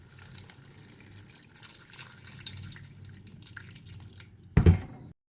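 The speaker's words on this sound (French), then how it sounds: "Je rajoute l'eau et je vais faire cuire le tout." Water poured into a cooking pot of sauce graine (palm-nut sauce with fermented fish and salt): a soft dripping, trickling wash runs steadily throughout, ending in a brief louder splash near the end.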